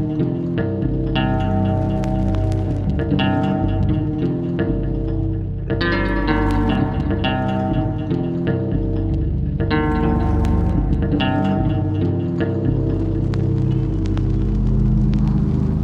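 An atmospheric patch from the Cinematique Instruments Gecko library for NI Kontakt plays alone. Layered tones rumble and echo, swelling in waves with fresh chordal entries roughly every four seconds under a dense, reverberant wash.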